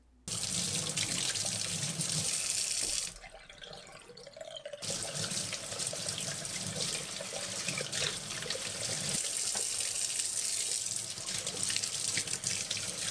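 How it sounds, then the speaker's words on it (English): Kuvings EV0820 slow juicer parts being rinsed under a running kitchen tap, a steady close hiss of water splashing into a sink, briefly interrupted once before flowing again. "Besides the strainer, all the other parts just require a rinse underwater."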